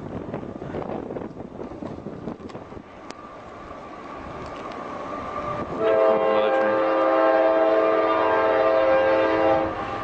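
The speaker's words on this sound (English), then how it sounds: "They have trains going by here 24/7." A train rumbles past near a busy station, then a loud, sustained multi-tone horn sounds over the steady clatter, with wind buffeting the microphone.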